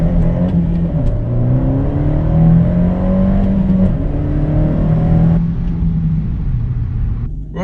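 Bluespark-tuned Abarth 124 Spider accelerating hard from a standstill in a 0-62 test, engine revs climbing through the gears with rising tones and brief dips at each shift, loud and close.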